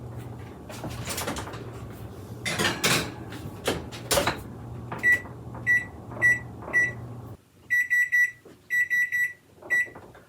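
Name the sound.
kitchen oven timer going off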